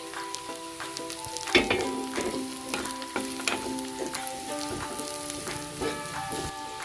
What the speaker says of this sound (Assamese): এতিয়া মই ইয়াতে কাজু দি দিম আৰু অলপমান ভাজিম